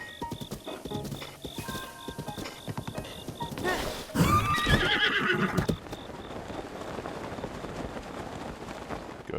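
Horse in Zelda: Breath of the Wild whinnies loudly midway, framed by quick clip-clop hoofbeats before and after, with game ambience underneath and no talk.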